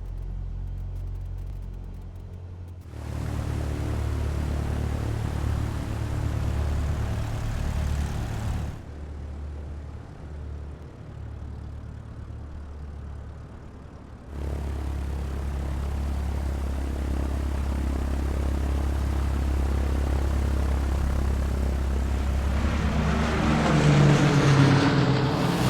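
A light propeller aircraft's piston engine idles on the ground at about 640 RPM before taxiing, a steady low droning rumble that drops away briefly midway and then returns, rising toward the end.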